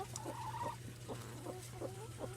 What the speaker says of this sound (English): Chickens, look out, chickens.